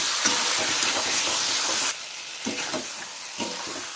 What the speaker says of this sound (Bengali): ভালো করে কষাতে থাকবো আবারও